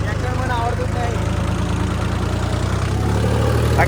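A tractor engine idles steadily at close range, a low throbbing drone with even vibration that holds for the whole stretch, while someone talks over it.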